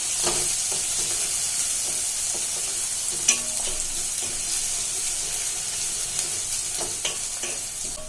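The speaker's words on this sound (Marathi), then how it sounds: "आता आपण छान परतून घेऊया" Curry leaves and a slit green chili sauté in hot oil in a pan for padwal (snake gourd) bhaji, giving a steady close sizzle with occasional spatula scrapes and clinks, no voices.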